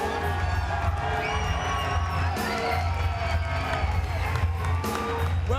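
Wrestling arena crowd cheering and whooping loudly and steadily throughout, dense roar of many voices with occasional shouts rising above, all at a close, constant level.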